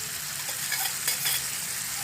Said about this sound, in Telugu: పెరుగు చారు పోపులో పోస్తున్నాం